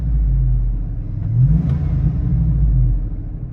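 A Hummer H2 with a 6.0L Vortec V8 revs up, its deep, loud engine note rising and falling in a steady rumble for a few seconds, heard up close with no talking.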